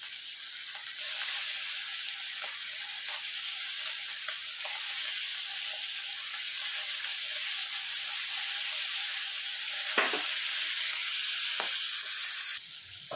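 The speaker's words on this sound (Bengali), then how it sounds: "দেখুন, সব চিংড়ি মাছগুলো ছেড়ে দিয়েছি। এক পিঠ মোটামুটি একটু ভেজে নেবো" Prawns sizzle in a pan of hot oil with green chillies for butter garlic prawns, a loud, steady, close frying hiss with a couple of brief clinks, no talk.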